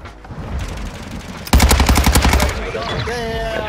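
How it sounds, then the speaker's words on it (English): The Kronen Squall firing in a shooter game, a rapid burst of evenly spaced loud gunshots lasting about a second, close and punchy, followed by fainter ringing and game sounds. "This gun though, the Cronen Squall."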